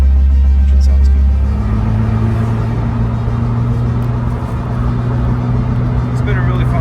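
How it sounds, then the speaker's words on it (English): A 2006 Porsche Boxster S with its 3.2-litre engine and over 100,000 miles runs close by, a loud, steady low rumble that starts heavier and settles into an even idle drone with no voices over it. "Engine sounds good."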